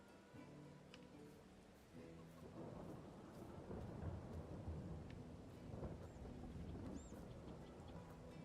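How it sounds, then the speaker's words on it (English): A springtime thunderstorm in the farming video game Farmville: steady rain hisses under low, rolling rumbles of thunder, faint and continuous, with no talk over it. "Springtime storm is pretty rough sounding right now."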